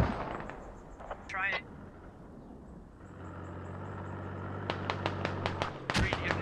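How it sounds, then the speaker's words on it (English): Mortar rounds landing and exploding in a military video game, a series of sharp, distant blasts and cracks in quick succession over a low rumbling backdrop. "More mortars land."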